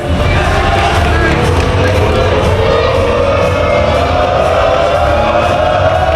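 A crowd at a pro wrestling show cheers and shouts continuously at the UK Pitbulls tag team, making a dense, loud roar that holds steady throughout with no pauses.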